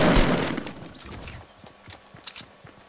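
Gunfire in a shooter video game, a loud burst of shots at the start fading into a few scattered, fainter pops and footstep-like thuds.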